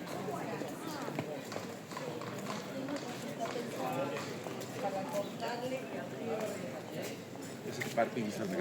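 Hooves of carriage horses clip-clop across a square in Seville, Spain, a scattered clatter of light knocks mixed into busy outdoor ambience with people talking nearby.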